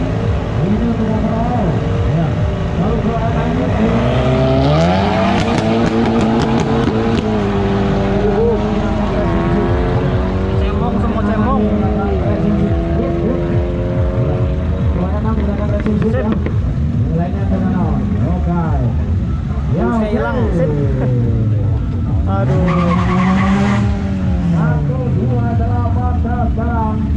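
A white drag racing car launches down the strip at a drag event, its engine revving and wailing in rising and falling sweeps over a loud continuous roar, with an announcer talking throughout.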